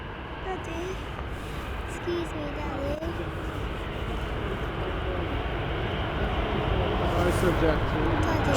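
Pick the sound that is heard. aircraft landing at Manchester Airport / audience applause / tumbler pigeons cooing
aircraft landing at Manchester Airport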